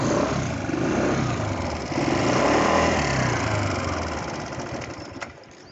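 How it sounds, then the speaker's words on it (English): An Aprilia SR125 scooter engine runs at a steady, smooth idle close by, with a slight swell in the middle before it fades and cuts off. "I hope you guys can hear the sound of the engine."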